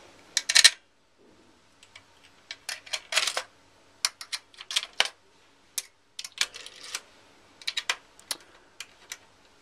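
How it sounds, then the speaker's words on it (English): Screws going into the metal case of an Xbox 360, with close, sharp clicks and small metallic taps coming in irregular clusters amid quiet handling. "Put in all six screws."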